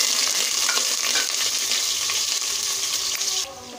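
Chili and turmeric powder fry in hot oil in a wok for a mustard hilsa recipe, giving a steady, close, hissing sizzle that continues evenly and drops off sharply near the end.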